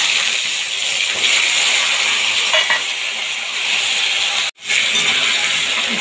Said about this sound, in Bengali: ভালোভাবে নেড়ে চেড়ে একটু ভাজা ভাজা করে নেবো,